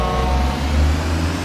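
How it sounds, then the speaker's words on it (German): A car horn in the construction game Bau-Simulator 2015 blares as one sustained, loud tone over a low engine rumble, with no talking. "Wo ist die Hupe? Ich will meinen Tunnel hupen."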